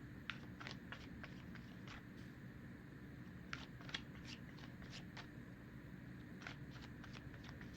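Tarot cards are shuffled in quiet, repeated papery riffling bursts, clustered with short pauses between them, faint and close against a low room hush.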